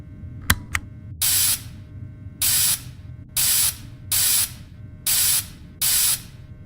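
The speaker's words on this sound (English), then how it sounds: "So go ahead and start spraying the suit" Cleaning solution sprayed onto an animatronic suit in a video game, six loud hissing bursts of about half a second each at a steady pace, preceded by two sharp clicks.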